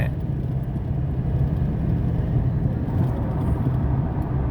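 A car on a test run after its filter was cleaned gives a steady, loud low engine rumble with road noise, holding fairly even throughout with no talking.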